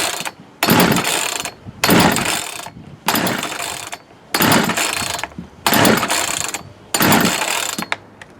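A Poulan 36cc Wild Thing chainsaw, primed and with the choke on, is pull-started about six times in a steady rhythm. Each loud, close rasping pull is followed by a short gap, and the engine never catches.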